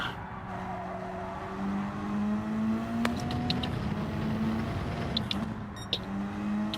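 Race car braking hard and skidding in Gran Turismo 7, a steady engine drone with tire squeal and scrubbing rising over it, plus a few short clicks, heard alone without talk.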